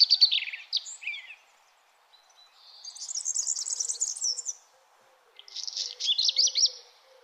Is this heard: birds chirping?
yes